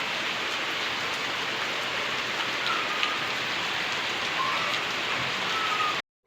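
Heavy rain pours down steadily and loudly in a dense, unbroken roar of drops on surfaces, holding constant for about six seconds before cutting off abruptly.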